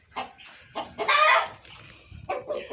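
Sweater breed chickens clucking nearby, a series of short clucks and a longer squawking call over a steady high-pitched background whine, with faint voices at times.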